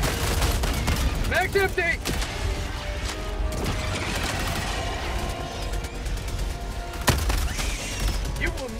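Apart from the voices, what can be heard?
sentry turret gunfire in video game Helldivers 2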